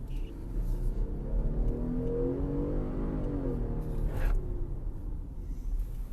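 A 2021 Jeep Grand Cherokee's engine revs up steadily, its pitch rising as it accelerates, heard from inside the vehicle with a constant low rumble.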